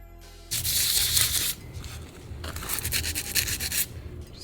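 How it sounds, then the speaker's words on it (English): A boat propeller is wet sanded with 80 grit sandpaper, giving close, steady rasping scrubs that pause briefly and then carry on in uneven strokes. "Sanding it down to 80 grit. Wet sanding before we apply the prop glide."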